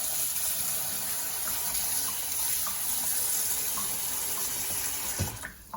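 Tap water runs steadily into a kitchen sink as raw pork ribs are rinsed for bak kut teh, a constant close splashing rush with a few knocks near the end and no voices.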